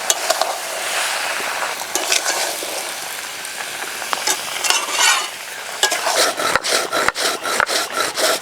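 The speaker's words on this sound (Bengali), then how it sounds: "আম একটু তেলের সঙ্গে 2 মিনিট মতো নাড়াচাড়া করে নিলাম।" Mango pieces being stirred in hot oil for a sweet-sour-spicy pickle, a steady scraping and rubbing of the spoon against the pan over a low sizzle, with sharper knocks and strokes growing rhythmic toward the end.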